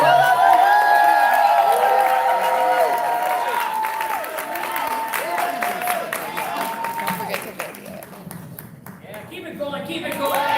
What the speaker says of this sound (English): Please welcome to the stage with a big round of applause, Sophia.